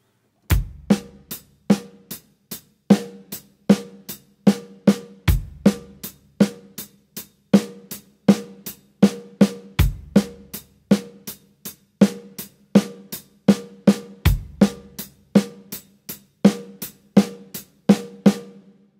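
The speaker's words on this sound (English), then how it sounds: "we're gonna play our double paradiddle as a double paradiddle groove" A drum kit plays a double paradiddle groove, with sticking moving between snare and hi-hat and a deep kick drum landing on the first downbeat of each bar. The sharp, evenly spaced strokes repeat steadily and clearly, with no talking.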